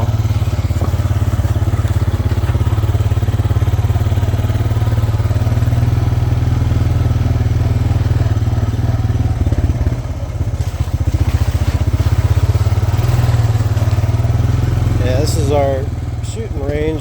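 Four-wheeler ATV engine on new tires rumbling steadily on a ride around a homestead, loud low chugging with slight revving changes, and a voice speaking briefly near the end.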